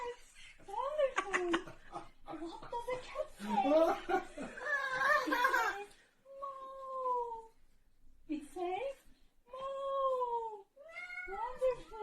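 A voice imitates a cat with several drawn-out meows, mixed with giggling and chatter at first, then isolated meows.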